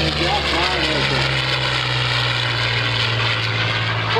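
A Yak-9 propeller fighter plane roars past at a World War II weekend air show, its loud, steady engine drone filling the whole clip, with an announcer talking over it.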